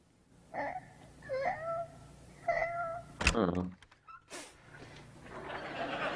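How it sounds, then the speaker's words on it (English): Several short meows from a cat indoors, close and moderately loud, spaced over a few seconds with a brief sharp noise in between and some voice-like sounds around them. "Where did you come from, cat?"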